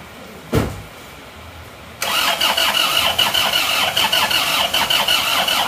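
A diesel engine is cranked by its starter on a cold attempt. After a single sharp knock, a loud, steady, pulsing churn of cranking runs on without the engine catching, close by.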